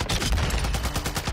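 Rapid automatic gunfire in a shooter video game rattles out in a dense, loud burst of overlapping shots, a quick stuttering volley lasting little more than a second.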